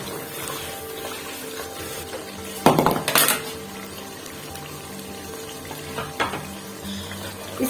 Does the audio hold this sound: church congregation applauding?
no